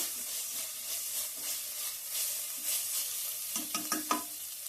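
Masala spices fry in a pan for an egg and brinjal curry, giving a soft continuous sizzle with scraping stirring strokes that grow sharper and more distinct near the end, with no talking.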